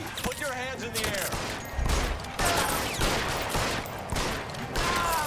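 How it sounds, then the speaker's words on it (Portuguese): Gunfire in the video game L.A. Noire, repeated bursts of shots in quick clusters across the whole stretch, heard beneath and between people talking. "Já andamos aqui aos tiros."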